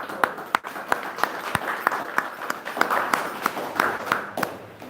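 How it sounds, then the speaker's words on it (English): Modest applause at a school for children with special needs, a soft steady patter of hands with a few sharper individual claps standing out near the listener. "They deserve a clap."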